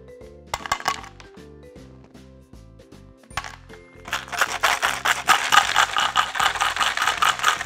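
A homemade shaker made from a bottle, shaken by hand, gives dense crackly rattling that starts in short bursts and grows louder and continuous toward the end, with no voices.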